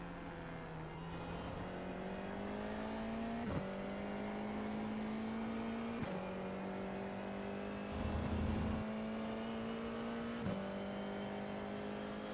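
Race car lapping in the iRacing sim, a continuous engine drone that climbs in pitch through each gear and drops sharply at every shift, several shifts in a row, steady and fairly close.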